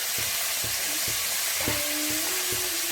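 Three medium onions, sliced lengthwise for duck curry, fry in a hot pan with a constant close sizzle, broken by regular soft knocks of a spoon stirring them.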